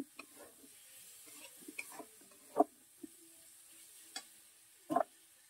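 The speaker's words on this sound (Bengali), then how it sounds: "মশলাও ভাজা হয়ে গেছে, আলুটা দিয়ে দিয়েছি।" Potatoes fry with spices in a pan, making a faint, soft sizzle. A handful of distinct scraping clicks and taps come from stirring in a quiet kitchen.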